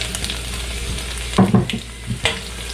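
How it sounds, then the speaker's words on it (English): Five chopped garlic cloves and three sliced small green chilies hit a pan of crackling mustard seeds for a cashew nut curry, giving a sizzle with a brief louder burst and stirring scrapes. "When the mustard seed crackle, I am adding 5 garlic cloves chopped and 3 green chilies, small ones sliced"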